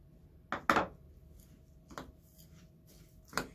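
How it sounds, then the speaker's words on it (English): A few short, dry scraping clatters as birdseed is stirred and mixed in a bowl, spaced out over a few seconds with quiet gaps between. "So we're going to put that in here and mix it all up."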